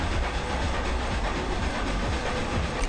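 A train running in Forza Horizon 2, a steady close rumble with faint clickety-clack and hiss, constant and loud for the whole stretch, no talking.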